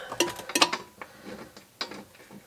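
Ratchet wrench working a bolt while swapping Evo Recaro seats into a second-generation DSM, giving a few short, sharp metallic clicks in quick uneven bursts, close up with no talking.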